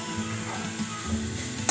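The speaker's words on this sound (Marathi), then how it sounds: "तूप गरम झालं की मग आपल्याला त्याच्यात गाजरचं कीस टाकायचा आहे." Grated carrot for carrot halwa goes into hot ghee with a steady, fairly loud sizzle and faint ticking clinks from the pan.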